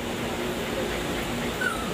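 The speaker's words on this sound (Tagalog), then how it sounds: "Ang umiiyak po yung mga tuta." Puppies whimpering and crying in a thin, continuous chorus of soft high whines, close by, under a steady background hum.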